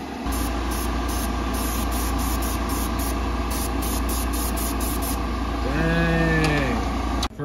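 Short hissing bursts of an airbrush or sprayer lay Proline paint onto a Lexan RC car body, pulsing over a steady compressor hum, with a brief tonal squeal near the end.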